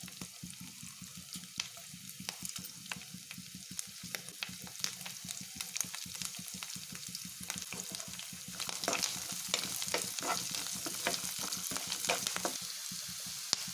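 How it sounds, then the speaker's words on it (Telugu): Dried red chillies fry in a pan for an alasanda (black-eyed pea) karam, giving a steady crackling sizzle with dense popping spatters throughout, growing slightly louder in the second half, with no talking. "తర్వాత ఎండుమిర్చి వేసి ఫ్రై చేసుకున్నాం"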